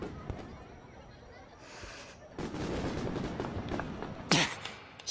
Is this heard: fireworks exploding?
yes